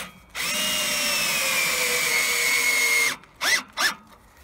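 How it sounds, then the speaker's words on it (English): A power drill drives a retaining screw into a sawmill rail, one loud sustained whine lasting nearly three seconds with the pitch slowly falling, then two short bursts, close up. "And then the next thing is just to put a retaining screw into there."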